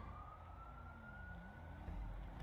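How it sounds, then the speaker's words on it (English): A faint police siren in a video game wails steadily in the distance under a low rumbling engine hum, holding a long drawn-out tone. "who's got the sirens on"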